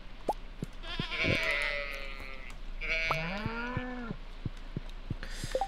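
Sheep in the Stardew Valley video game bleat twice in quick succession, clear drawn-out calls over soft game ambience with small clicking effects around them.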